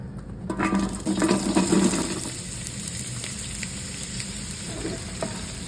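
Onions hitting hot oil in a pot for Chinese-style noodles burst into a loud sizzle, then settle into a steady crackling fry with stirring scrapes. No voices.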